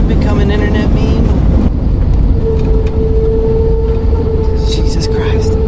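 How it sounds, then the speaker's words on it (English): Airliner landing at Orlando with reverse thrusters engaged: a loud, steady engine roar and rushing noise inside the cabin, with a rising whine building through it. "Reverse thrusters engaged."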